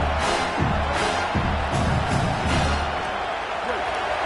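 Football stadium crowd roaring in waves, a dense loud rumble with thumps and shouts, heard under a commentator's voice.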